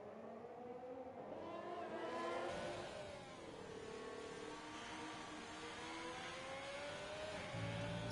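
F1 car engine at high revs on a qualifying lap around Hungary in the F1 2020 video game, a continuous whining tone that sweeps up and down through gear changes, steady and fairly loud.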